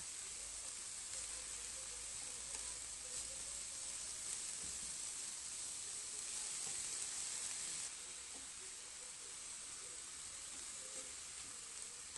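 Grated zucchini, carrots and coriander sizzle gently in a covered pan, a soft, steady hiss that holds evenly throughout with no voices.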